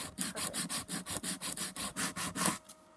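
Sandpaper rubbed back and forth on a wooden jointed crankbait fishing lure, about a dozen quick rhythmic rasping strokes, close and clear, ending abruptly.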